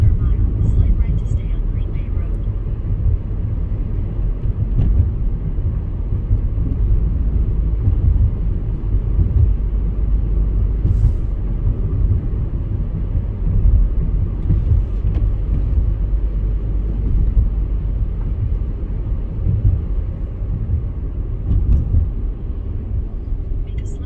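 Car driving on the road from Highland Park to Chicago, Illinois: a continuous low road rumble and engine drone, loud and steady throughout with no breaks.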